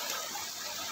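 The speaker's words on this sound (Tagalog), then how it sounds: "makikita nyo po na patuloy na umaagos ang malinis na tubig" Clean water of the Sabang River flows continuously, a steady broadband gush and rush of moving water, close and even, with no voices over it.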